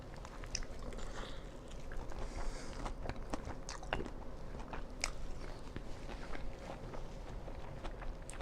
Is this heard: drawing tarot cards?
no